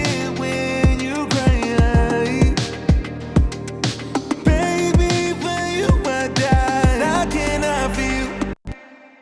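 Mixed piano track with a pitch-shifted low-octave layer spread in stereo: full, dense chords and a deep bass register ringing continuously at loud level, with a brief dropout near the end.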